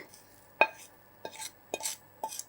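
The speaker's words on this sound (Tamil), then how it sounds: "மறுபடியும் இந்த பேனில் வேப்பம்பூவை தனியாக போட்டுக்கலாங்க." Dried neem flowers are stirred in a metal pan, giving four or five separate scraping, rustling strokes of a spoon against the pan, close and fairly quiet, with soft gaps between them.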